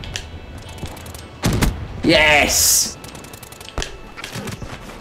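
Black Ops 3 War Machine grenade launcher fires with sharp mechanical bursts and a booming blast, followed by whirring and clanking, while a player shouts excitedly over the action.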